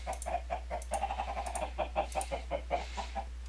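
Steady, rapid clucking from several chickens in the video game Minecraft over a low constant hum, no talking.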